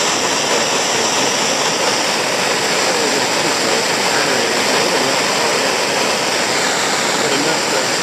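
A heat gun blasts steadily while heating wire adhesive on a landscape well light, giving a loud, constant rushing airflow roar that holds unchanged from start to finish.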